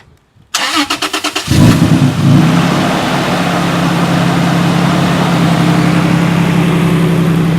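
An Xrunner truck with a low, uncharged battery cranks in several quick pulses, then fires up loudly, revs briefly and drops into a steady, close idle.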